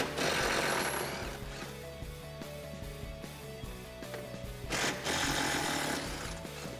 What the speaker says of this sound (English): Grab a 13mm socket and get these out.